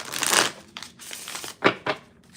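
Tarot cards are shuffled in a few quick riffling bursts, crisp papery flutters close by with short pauses between.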